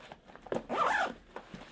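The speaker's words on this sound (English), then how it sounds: "As you can see, it zips right there" Zipper running along a pocket on a disc golf bag, a few quick short zips then one longer pull, close and clear with no talk.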